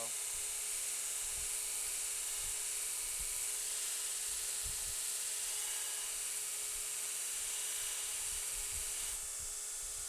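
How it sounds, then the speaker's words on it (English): A belt grinder grinds and levels the flat of a hammered knife blade. It gives a steady, loud, hissing abrasive roar throughout, with occasional soft low thumps underneath. "This belt, this grinder and everything, it does such a great job of really leveling everything out"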